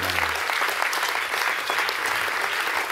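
Church congregation applauding for the Lord during a Hungarian worship service, steady dense clapping filling the room from start to finish, with a few voices mixed in at the opening.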